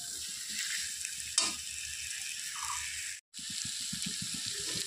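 New potatoes sautéing with spices in a pan, a steady close sizzle with small crackles and a couple of stirring scrapes, briefly cutting out, no talking.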